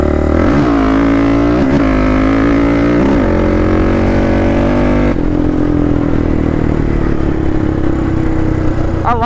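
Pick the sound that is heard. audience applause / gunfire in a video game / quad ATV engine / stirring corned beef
quad ATV engine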